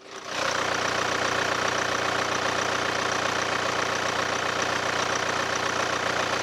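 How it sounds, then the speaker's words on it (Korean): The 2.0-litre diesel engine of a Hyundai Santa Fe The Prime SUV idles steadily with a low, even rumble and faint knocking clatter, running alone without pause, with no belt squeal. "산타페 더 프라임 차량 엔진음 개방했습니다"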